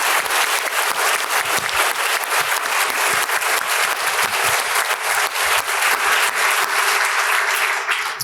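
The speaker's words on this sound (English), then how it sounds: "Chris and I would like a round of applause to all the CalPERS and CalSTRS staff members" A large conference audience at a CalPERS/CalSTRS diversity forum gives sustained, loud, dense applause for staff members, steady throughout with no voices.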